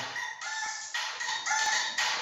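A rooster crowing plays as an alarm sound, repeating in short bursts that rise and fall, fairly faint and thin, with no voices over it.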